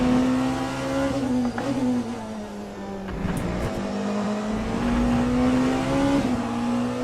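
Race car engine in the sim racing game Le Mans Ultimate, a loud steady drone that dips briefly as the car brakes through a chicane, then climbs and holds again, with no voices.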